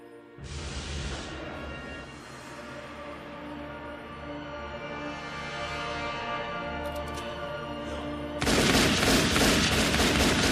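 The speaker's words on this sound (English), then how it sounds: "there's also some gunshots" Gunfire plays from a video clip: a dense, continuous stretch of rapid shots and blasts runs through most of the clip, then a louder, harsher burst of firing erupts near the end.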